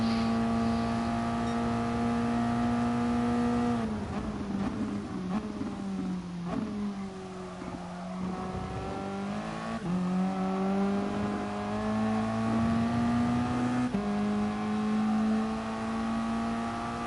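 Toyota race car engine in a video game, lapping the Brazil circuit, a loud steady drone with harmonic whine that shifts pitch as the car changes gears, lifts off and accelerates again, continuous and close throughout.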